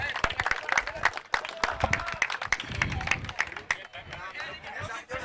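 A crowd at a cricket tournament prize distribution claps loudly for the committee members, with dense, rapid, uneven clapping throughout and voices talking beneath it.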